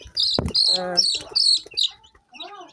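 Crop chickens (a native country chicken breed) on a farm cluck and chirp in short bursts close by, a few rapid calls followed by softer peeps.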